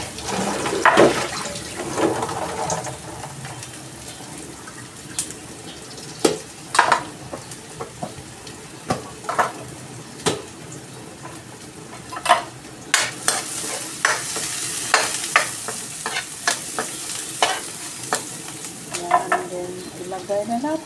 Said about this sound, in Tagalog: garlic at saka onion. Mabango.